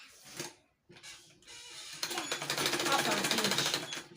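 A sewing machine stitches a seam on a wrap peplum blouse, starting in short bursts and then running steadily and rapidly at close range.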